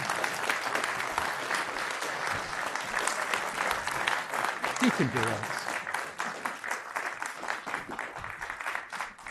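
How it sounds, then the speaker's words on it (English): Theatre audience applause as volunteers come up onto the stage, loud and sustained throughout with dense rhythmic claps. A voice calls out encouragement partway through. "Give them a round of applause, please."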